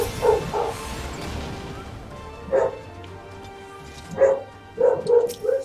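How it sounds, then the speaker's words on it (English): A pet dog barks inside a room in a series of short, loud yips and bow-wows, with pauses between the bursts and a low background hum throughout. "My own dog is going bananas."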